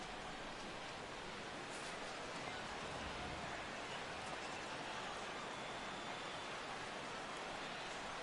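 Steady rain falls on a ballpark during a simulated San Diego vs Cubs baseball game in MLB The Show 2016. The even, unbroken hiss holds for the whole span, with no commentary over it.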